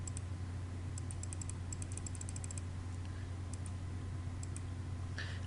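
Keys pressed on a computer keyboard during a CorelDRAW 2017 tutorial, heard as scattered light clicks in bursts, first quick and clustered, then sparse, over a steady low hum with no talk.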